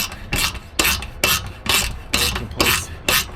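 13mm deep socket turning a bolt in a garage, a steady run of about seven rhythmic rasping ratchet strokes, close and fairly loud, with nobody talking.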